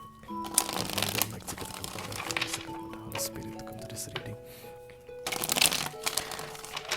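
Tarot cards are shuffled up close in quick riffling bursts with crisp flutters and soft slaps, pausing briefly between rounds.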